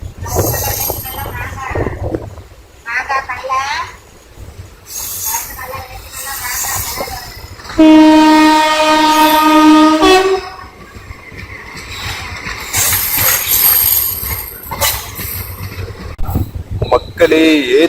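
The 16530 Karaikal–SMVT Bengaluru Express rolls through Ethapur Road station, with rumbling wheels, a loud sustained horn blast midway and rattling carriages, while a voice talks intermittently over the noise.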